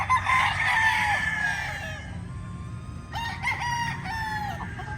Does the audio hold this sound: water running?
no